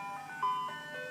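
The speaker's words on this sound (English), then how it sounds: "proof that we have an ice cream truck that plays La Cucaracha" An ice cream truck plays La Cucaracha, a short snatch of the chiming electronic melody heard from a moderate distance outdoors.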